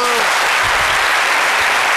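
Audience applause during a talk about dance and leaving crime behind: dense, steady clapping from a crowd throughout, with some speech mixed in underneath.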